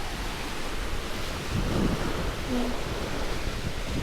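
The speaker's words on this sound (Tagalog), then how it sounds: "Kahit yung dagat ngayon. High tide, grabe oh." Sea waves at high tide along a coast in the Philippines roll in as a steady, broad roar of surf, with a slight swell in loudness midway and wind rumbling in the background.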